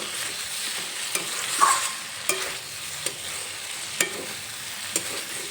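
Mixed vegetables cook in a wok with a soft, steady sizzle, broken by about six sharp spatula scrapes and clinks at roughly even intervals as they are stirred. No one speaks.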